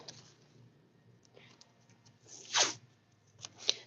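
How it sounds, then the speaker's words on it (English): Tape pulled from a roll in a craft studio, one quick ripping zip followed by a shorter second pull, close and fairly soft, with faint rustling before it. "So let's take our tape"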